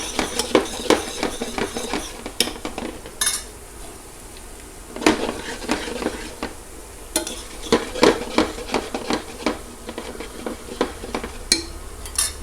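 Garlic and ginger cook gently in oil that started cold on lowered heat while a utensil stirs them in a pan, giving irregular scraping clinks and knocks over a soft sizzle, with clusters of taps and pauses.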